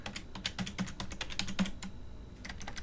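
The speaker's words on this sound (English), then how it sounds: "we could go to Microsoft Word, and we could go ahead and click in here, and we'll go ahead and type in" Quiet, close typing on a computer keyboard while entering text in Microsoft Word, with a steady run of small clicky keystrokes and brief irregular gaps.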